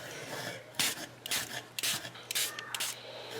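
Spritz gloss sprayed onto cardstock in several short hissing bursts, close and fairly loud, separated by brief pauses.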